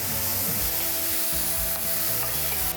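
Green chilies and onion sizzle in a hot pan, a loud, steady frying hiss broken by the scrape and clatter of stirring, with no voices over it.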